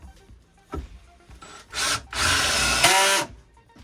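A power drill drives screws into wall studs and plywood in a small workshop, giving short bursts of whirring and grinding that build to a longer loud run near the end, close by with no talk.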